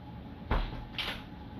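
A door thuds shut indoors in a single dull knock, followed by a softer second bump, fairly quiet and alone.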